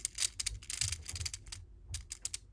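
Rapid, light plastic clicking from a Beyblade X top fitted with a gear ball bit, a dense ratcheting patter in uneven bursts with short pauses, faint and close, with no voices.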